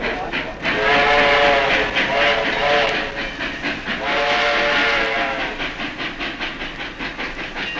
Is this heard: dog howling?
no